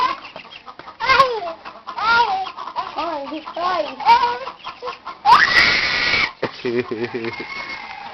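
Chicken clucks and squawks come in short bursts near the listener, mixed with a child's and an adult's voices talking over them.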